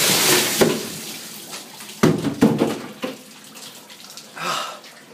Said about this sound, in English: I'm going to take the ice bucket challenge in my shower.